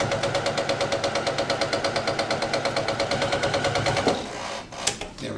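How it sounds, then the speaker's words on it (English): A heavy-duty sewing machine punches through a thick, fat seam in a fast, even run of rhythmic stitching thumps, then stops abruptly near the end, leaving a few faint handling noises. "I've never tried a big fat seam like this on this machine, but this machine is heavy duty."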